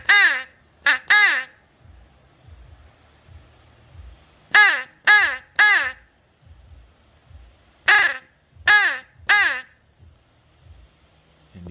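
A Primos crow call blown to imitate crows gives three bursts of loud, harsh caws, two or three short calls each, spaced a few seconds apart, with faint low rustling and handling noise between them.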